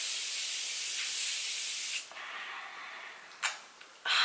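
A long hissing burst from a Morphe makeup setting spray bottle, then a pause and two shorter sprays, close and loud with no talking.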